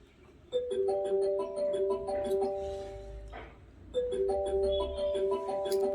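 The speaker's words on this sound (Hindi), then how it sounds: "अरे घंटी बज रही है।" A melodic electronic phone ringtone plays a repeating phrase twice, muffled from inside a bag, with a brief pause between the two rounds.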